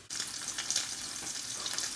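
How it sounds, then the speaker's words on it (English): Steady, crackling sizzle of food frying in a hot pan, loud and continuous, with no voices. "That thing's sizzling, baby!"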